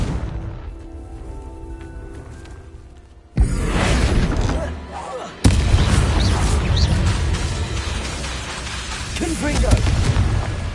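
Confringo blasting spells explode in Hogwarts Legacy, two loud booming bursts breaking in sharply after a quieter opening, followed by a sustained rumbling roar of combat noise.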